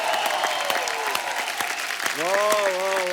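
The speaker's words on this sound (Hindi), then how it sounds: "एक बार हमारे तमाम कलाकारों के लिए जोरदार तालियां।" Enthusiastic audience applause for the performers on a television comedy show, dense clapping under a voice speaking and a musical tone rising near the end.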